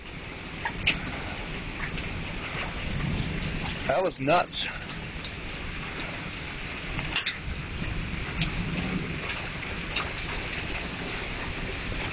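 Hail drums steadily and densely on surfaces all around, a constant rushing patter, while someone speaks briefly partway through.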